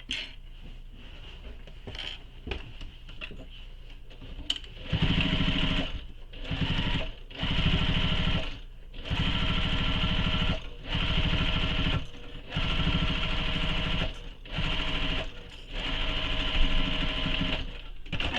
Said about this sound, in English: Going to sew again, just as I did previously, a second row of stitching.